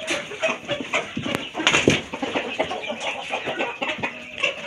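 Chickens clucking in a farmyard, a steady run of short, close clucks and calls with a few louder squawks, alone with no talk.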